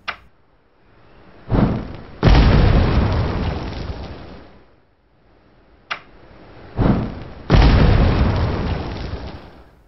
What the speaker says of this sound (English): It's like God dropped it from the heaven and it's hitting the ground going thud.